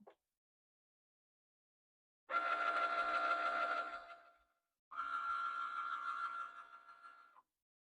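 A Cricut Maker cutting machine runs through a card project in two separate bursts of steady mechanical whirring, each lasting about two seconds with a short pause between them. No voice is heard.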